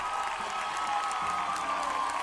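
Large studio audience on a game show applauds loudly and continuously for former hosts, a dense, sustained wash of clapping with some cheering throughout.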